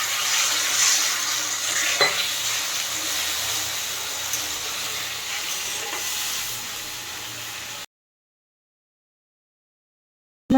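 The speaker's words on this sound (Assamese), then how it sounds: "অলপ অলপকৈ পানী দি যাব আৰু লৰাই যাব" Fish curry with elephant apple and potatoes is stirred in a pan as water goes in bit by bit: continuous close sizzling with scraping spoon strokes and a few clinks, then it cuts to silence near the end.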